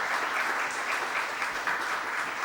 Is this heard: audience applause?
yes